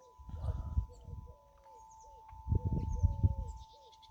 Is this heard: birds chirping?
yes